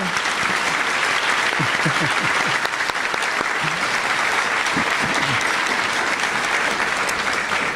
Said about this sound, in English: Shall we give him a round of applause for his...